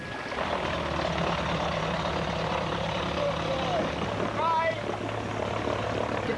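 Seaplane engine droning steadily in flight over lakes and rivers, a loud continuous propeller hum through the cabin, with a voice talking over it.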